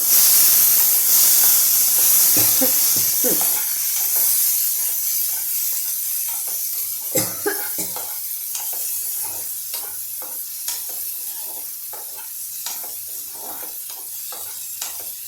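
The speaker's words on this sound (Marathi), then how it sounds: "आता यामध्ये आपण घालणार आहोत टोमॅटो याला आपण हलवून घेऊया" Tomatoes for a Marathwada-style tomato thecha hit hot oil in a pan. A loud steam hiss fades into a softer sizzle, with repeated scraping and clinking as they are stirred close by and no one talks.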